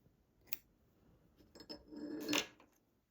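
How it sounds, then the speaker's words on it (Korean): Scissors snip through knitting yarn during a knitting project, with a faint first cut followed by a louder, closer, rasping snip near the end, and no talking. "저는 얘를 가위로 한번 잘라서 정리를 해볼게요."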